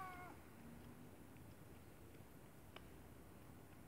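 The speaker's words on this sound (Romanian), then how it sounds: "Ne-am întâlnit și cu o pisică." A cat meows once, brief and faint, on a quiet summer night street in Sweden, followed by soft background hiss and a few small distant sounds.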